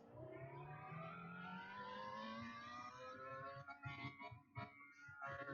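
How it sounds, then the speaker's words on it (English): A car in the Roblox game Greenville accelerating, its hybrid engine note rising steadily in pitch with a smooth revving whine, loud and close throughout, then wavering and dipping near the end. "this car's acceleration is through the roof."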